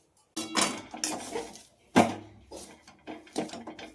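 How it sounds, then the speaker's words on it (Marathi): A lid lifted off a covered cooking pan after several minutes of gentle cooking, during preparation of masala peanut bhindi and aloo roti. A few close metallic clanks and knocks ring out, one sharp strike standing out partway through. "आता आपण हे झाकण काढून घेऊया"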